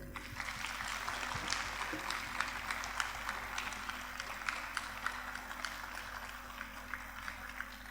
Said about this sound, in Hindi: तो मेरे ख्याल है एक ज़बरदस्त किस्म की जो तालियां हैं वो शहजाद साहब के लिए होनी चाहिए।